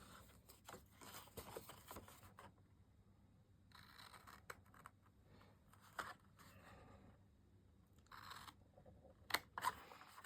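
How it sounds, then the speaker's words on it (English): Scissors cutting and scoring paper or card for a Christmas bauble treat holder, a run of quiet snipping and scraping strokes in short bursts with pauses between, close up and faint, no voices. "We're going to cut down and then cut across."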